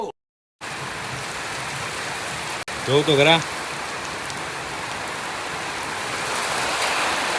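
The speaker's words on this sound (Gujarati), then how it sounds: "ભાઈ પણ વરસાદ છે ઉનાળાનો" Steady hiss of summer rain falling, continuous and fairly loud, briefly interrupted by a short spoken phrase.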